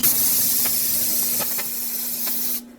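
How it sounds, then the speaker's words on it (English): Brake parts cleaner sprayed onto the brake rotor of a Nissan Frontier pickup, a steady, loud aerosol hiss lasting over two seconds with a few faint clicks, then cutting off abruptly. "rinse it down with brake parts cleaner and have a collection bucket underneath to catch all the fluid"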